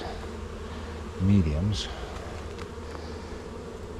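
Honey bees hum steadily around a bee hut hive on a summer hive inspection, a continuous low buzz with a brief louder pass as a bee flies close, and someone talking lightly over it.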